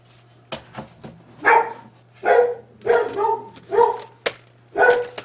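A dog barks indoors nearby, giving about six loud, sharp barks at an uneven pace, with short gaps and a steady low electrical hum underneath.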